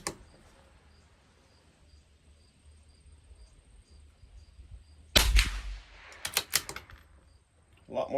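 A CZ 457 rimfire rifle fires one High Velocity Match .22 round, a single sharp crack midway through, followed by quick mechanical clicks, with crickets chirping faintly in the background.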